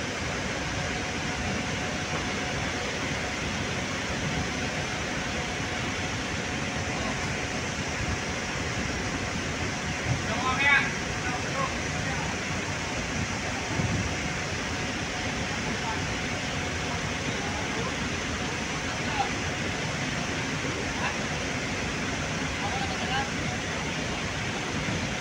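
Sea waves wash against a boat as it approaches port, a steady, even rush of water noise that carries on without a break the whole way through.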